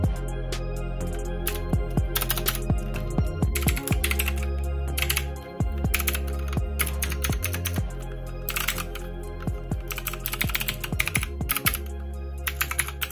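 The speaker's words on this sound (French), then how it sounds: "ça reste un bruit de touche classique pour un clavier mécanique" Steady, rapid clacking of a budget gaming mechanical keyboard, close and crisp, with bursts of faster typing and brief pauses, no voices.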